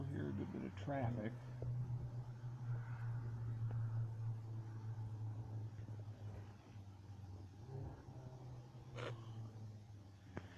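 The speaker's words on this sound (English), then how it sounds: "Traffic." Distant night traffic as a low continuous rumble of vehicles, faint and far off, with a steady low hum underneath and a few soft intermittent noises.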